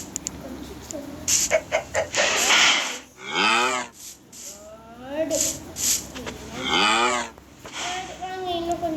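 A cow moos several times in long, drawn-out lowing calls, loud and close, with chickens clucking nearby and a person talking over parts of it.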